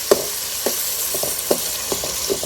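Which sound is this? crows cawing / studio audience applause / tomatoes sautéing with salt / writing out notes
tomatoes sautéing with salt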